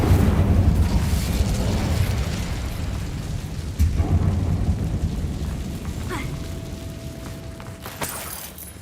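An Incendio fire spell goes off in Hogwarts Legacy with a loud burst and roaring whoosh that trails off over several seconds, then a few small pops near the end.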